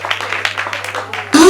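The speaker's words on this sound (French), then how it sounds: "Est-ce qu'on peut applaudir très très fort?" An audience at a surprise 50th birthday celebration breaks into loud applause, clapping rising abruptly at the end after a stretch of speech.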